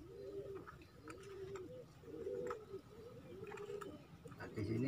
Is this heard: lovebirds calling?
yes